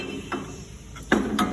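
A ram positioner slides into a Greenlee table pipe bender with a few short, close metallic clunks and knocks, the loudest coming in a quick cluster near the end.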